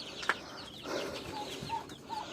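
Turkeys, including a white one, and hens at a home poultry yard let out soft, scattered clucks and short calls at a moderate distance, with a sharp tap near the start.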